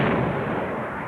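Heavy naval gunfire as the battleship HMS Hood opens fire, a single deep, powerful boom that rolls out into a long rumbling decay.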